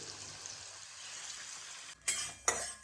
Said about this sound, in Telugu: ఇందులో మసాలా ముద్ద వేసేసుకుంటున్నాను. నేను కలుపుతానండి ఒకసారి.